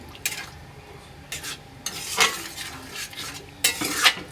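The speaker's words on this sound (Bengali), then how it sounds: "এইবার আমি মশলাটাকে একটু ভালো করে কিন্তু কষিয়ে নেব খুবই ভালো করে" Green chili paste masala for a shrimp dish fries in a pan, a low sizzle broken by several bursts of spoon-scraping stirring, close and clear with no talk.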